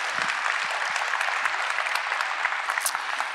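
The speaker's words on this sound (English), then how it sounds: "Let's give him a round of applause." Steady, dense clapping from a church congregation at a baby dedication service, a continuous wash of many hands slapping together without pause for several seconds.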